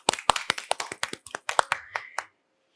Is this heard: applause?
yes